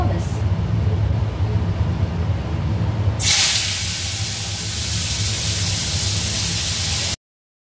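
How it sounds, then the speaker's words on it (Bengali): Sliced bitter gourd and potatoes drop into hot oil in a pan, bursting into a loud, steady sizzling hiss that continues for several seconds after a stretch of low kitchen rumble. "তো তার আগে আমি উচ্ছে আলুটা ভেজে নিই।"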